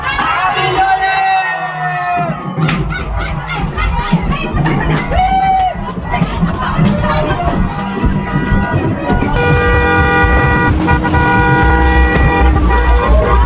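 Motorcycle horns honk and toot repeatedly amid a loud, dense New Year's celebration after a countdown, with crowd noise, voices and general revelry layered throughout.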